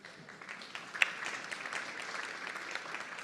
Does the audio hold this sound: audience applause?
yes